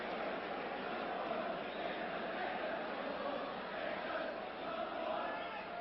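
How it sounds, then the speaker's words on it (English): A large football crowd at Aston Villa versus Leicester City in 1983 keeps up a dense, steady roar of voices that may be chanting about goalkeeper Spink being England's number one, heard from a distance and even in level the whole time. "the cry from the crowd about Spink is England's #1"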